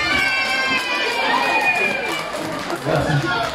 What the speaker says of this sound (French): Maintenant, l'applaudissement pour le DJ MX, s'il vous plaît.